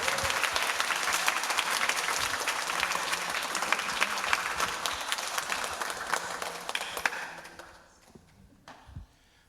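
A church congregation applauds warmly to welcome a pastor before an Easter sermon, a full, even roar of clapping that carries on for several seconds before tapering into a few scattered claps.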